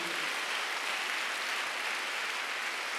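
Congregation clapping during a Sunday worship service at a Korean church, a soft, even wash of many hands heard from a distance, steady and unbroken for a few seconds.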